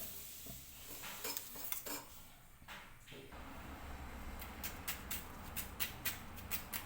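Onion and green chilies being chopped with a knife, heard as faint, quiet taps that settle into a quick, regular series of cutting strokes on a board.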